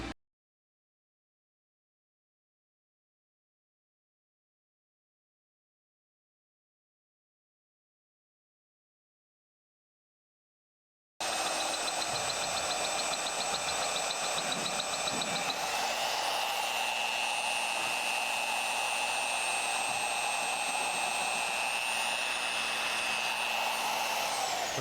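A Vevor magnetic drill bores into aluminum mounted on a steel plate, its steady whine and grinding cut running loud and continuous after a long stretch of silence.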